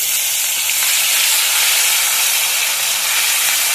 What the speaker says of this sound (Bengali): মৌ ওদিকে কষাচ্ছে আর আমি মশলাগুলো দিয়ে দিচ্ছি।